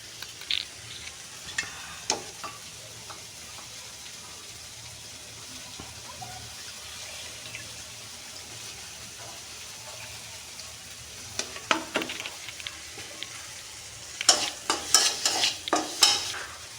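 Dried shrimp cooking in a pan with fish and gourd greens gives a quiet, steady sizzle, with scattered stirring scrapes and clinks that grow busier and louder near the end; no one speaks.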